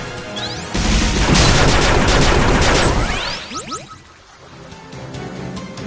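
Dense, rapid video-game gunfire from Indivisible, a loud sustained volley of shots lasting a couple of seconds, then fading into lighter scattered pings and metallic effects.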